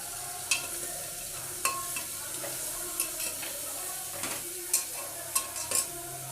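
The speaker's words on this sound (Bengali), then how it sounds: "দিয়ে দিচ্ছি রসুন কুচানো" Chopped garlic and quartered onions sizzling in a pan for chicken soup, with a steady fry hiss and repeated light clicks and scrapes of stirring throughout.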